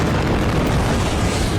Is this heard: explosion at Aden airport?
yes